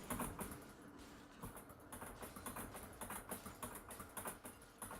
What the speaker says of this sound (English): You guys probably can hear the keyboard smashing right there.